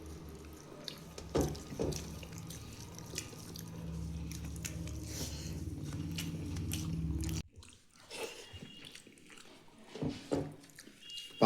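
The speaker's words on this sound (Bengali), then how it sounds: "ইলিশ মাছটা খাচ্ছি ঠিকই" Someone eats hilsa fish close up, with soft wet chewing and squishy bites in uneven bursts, brief clicks and pauses between mouthfuls.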